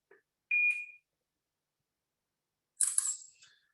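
A Guardhat connected safety helmet camera sounds an electronic tone as its top button is pressed to take a picture, followed after a pause by a brighter chirping shutter-like beep, both close and isolated in silence.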